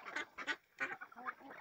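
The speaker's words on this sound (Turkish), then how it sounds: "Bu da benim tavuklarım." Chickens cluck and squawk in a run of short, nasal, honking calls in quick bursts, heard close and alone.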